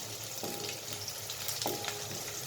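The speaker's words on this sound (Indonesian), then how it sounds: "Oke, kita aduk-aduk ya. Kita aduk-aduk" Water spinach being stir-fried in a pan with oyster sauce seasoning crackles with a dense close sizzle, while a spatula scrapes and clinks twice against the metal.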